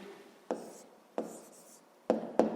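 Pen writing an answer by hand on paper, a few sharp taps and short scratchy strokes, close and quiet.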